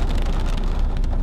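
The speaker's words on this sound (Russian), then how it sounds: "И пошел опять дождик." Rain keeps falling on a taxi driving through Minsk, a continuous close wash of patter blended with low road rumble, steady and even throughout with no voices.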